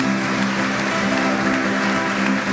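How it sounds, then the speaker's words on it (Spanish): A church congregation at a 2014 Advent retreat applauds in a dense, even wash of clapping that holds steady throughout, with no speech. "Un aplauso a Jesucristo."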